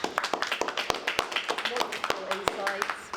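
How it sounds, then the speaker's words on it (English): An audience applauding after a talk, a modest scatter of distinct claps from a small group, irregular and fairly faint, with voices underneath. "Let's give her a round of applause."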